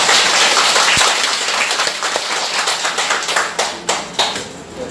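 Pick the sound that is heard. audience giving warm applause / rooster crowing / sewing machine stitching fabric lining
audience giving warm applause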